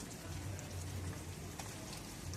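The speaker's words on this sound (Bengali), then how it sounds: "এই চিকেনটা দিয়েও একটুকু নেড়ে চেড়ে ভেজে দিচ্ছি 2-1 মিনিটের মতো।" Chicken pieces frying with onion and tomato in a pan while being stirred, giving a steady, soft crackling sizzle that stays constant throughout, with no talking.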